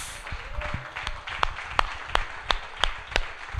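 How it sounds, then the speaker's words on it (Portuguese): Audience in a church claps in a loose, regular rhythm, about three sharp hand claps per second, fairly close, over a murmur of room noise. "quem estiver entendendo, aplaude"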